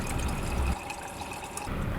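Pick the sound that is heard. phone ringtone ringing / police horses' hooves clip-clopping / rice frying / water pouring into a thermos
water pouring into a thermos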